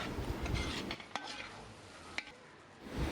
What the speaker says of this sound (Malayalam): ഇനി നമുക്ക് ഇറച്ചി നന്നായിട്ടൊന്ന് മിക്സ് ചെയ്ത് കൊടുക്കാം